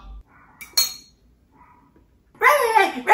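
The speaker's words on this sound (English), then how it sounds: "I woke up this morning, to the yipping and yapping of this fucking rat dog" A small dog yaps in sharp bursts, one brief yip early on, then a louder, longer run of high yapping at the end, heard indoors with quiet gaps between.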